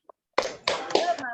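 A classroom of children clap the rhythmic tepuk semangat chant during a teaching session, three bursts of hand claps and voices in quick succession after a brief pause, close and fairly loud.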